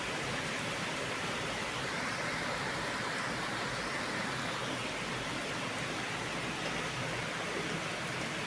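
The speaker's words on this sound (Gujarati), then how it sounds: "કેટલો વરસાદ, ભયંકર વરસાદ ચાલુ હતો" A fierce downpour falls outside a house during a rainy-day evening. A constant, full roar of rainfall holds evenly throughout, with no voices or breaks.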